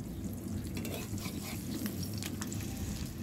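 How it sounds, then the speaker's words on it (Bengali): Eggs fry in a pan with a steady, soft, close sizzle that runs unbroken throughout, with no talk over it. "ডিম ভেজে নিচ্ছি"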